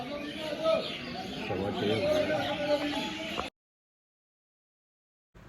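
Sparrows chirp and chatter in dense, overlapping calls from trees around a village procession, a busy, continuous flock noise lasting a few seconds before cutting to silence.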